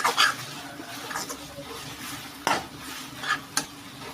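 Ground sambal spice paste sautés in hot oil with a soft sizzle, and a utensil stirs and scrapes across the pan in several distinct strokes, close and fairly quiet.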